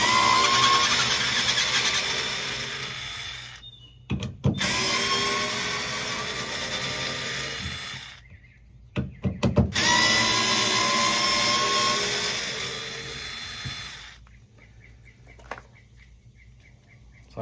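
A 4V cordless screwdriver backing out screws whines in three long bursts of motor spin, separated by brief pauses and clicks, close by with no talking.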